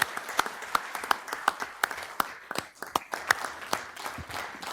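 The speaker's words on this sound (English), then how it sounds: "how about a big round of applause for our 2025 award recipients?" An audience claps and applauds award recipients at an Idaho Department of Lands meeting, a steady patter of many hands continuing for several seconds at moderate loudness.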